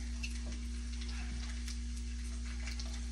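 Bacon frying in a pan lined with tissue to soak up oil, a steady close crackle and sizzle that runs throughout over a constant low electrical hum.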